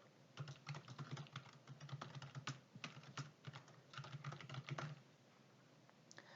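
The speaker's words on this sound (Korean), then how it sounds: "옆으로 이동할 때는 키보드에 탭 키 누르면 돼요" Rapid typing on a computer keyboard with Tab key presses while filling in spreadsheet cells, a dense run of close, crisp clicks in two bursts with a short pause between, no voice.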